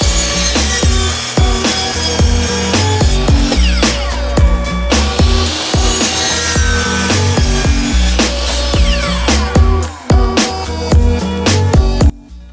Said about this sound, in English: I'm going to cut 4 at a time on this miter saw.